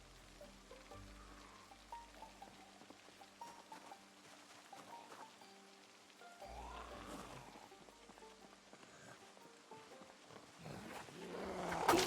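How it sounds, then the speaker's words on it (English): Rain falling in the zombie survival game Project Zomboid, a soft steady patter spread across the clip, rising toward the end with a louder rushing swell, and no voices. "there was rain in the weather forecast for today in the afternoon"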